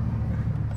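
A BMW M2 G87 engine idling or running steadily, a low continuous rumble heard close, moderately quiet and with no speech over it.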